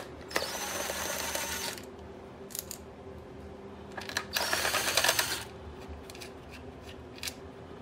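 Six 6 mm bolts are backed out of a Generac XT8500EFI generator's air cleaner box, giving two close bursts of rapid metallic ratcheting separated by quiet, with a few faint clicks afterward.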